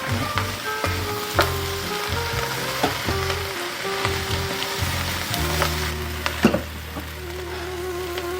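Shrimp sizzling in a pot among sautéed vegetables for a shrimp bisque stock, a loud, steady frying hiss with sharp pops and spatters and a low rhythmic hum running underneath.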